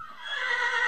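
A horse in the video game Minecraft neighs in a bright, drawn-out whinny lasting about a second, close and clear with no talk over it.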